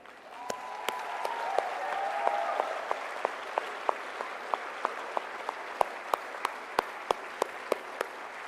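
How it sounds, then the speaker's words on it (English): Sustained applause from a large audience at a university graduate commencement ceremony, steady clapping with sharper individual claps standing out, continuing without speech throughout. "show the support and appreciation with applause for the education that you receive from the faculty and the staff"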